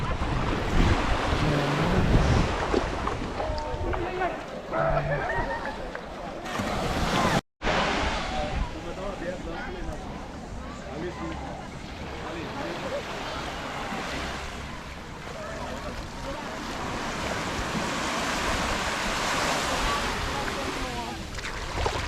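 Ocean surf rolling onto Oke Bay beach in the Bay of Islands, a steady broad wash of waves mixed with wind buffeting the microphone, close and continuous with a brief dropout, voices faint underneath.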